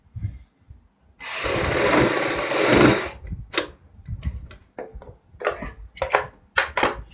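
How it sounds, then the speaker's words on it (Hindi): A sewing machine stitching around the neckline of a kurti runs in one loud, continuous burst of rapid mechanical whirring for about two seconds, followed by a series of short clicks, taps and brief starts. "इसी प्रकार सिलाई लगाते हुए ये सिलाई हम पूरे गले में कंप्लीट करेंगे।"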